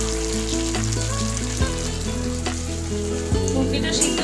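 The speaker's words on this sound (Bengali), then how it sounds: "এখানে হচ্ছে গিয়ে ঘুগনির মশলাটা কষিয়ে নেই কষে নিচ্ছে" Ghugni spice masala is fried in a pan with a loud, continuous sizzle. Stirring scrapes come through at intervals, and a steady tonal hum runs underneath.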